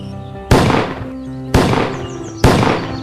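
Three sharp gunshot-like bangs in a cartoon, each a sudden loud crack that fades quickly, spaced about a second apart over a soft musical background; the sound is meant as a character imitating gunfire with the mouth.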